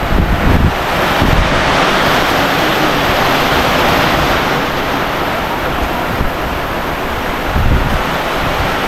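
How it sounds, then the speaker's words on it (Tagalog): Strong typhoon wind roars continuously into the microphone, loud and buffeting, with heavier gusts at the start and near the end. "lakas ng hangin eh"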